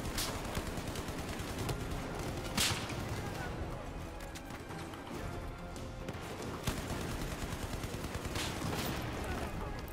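Battlefield 4 gunfire on the Operation Locker map, dense and continuous, with repeated sharp shot bursts over a busy background of game noise and music, plus a few louder cracks near the middle and end.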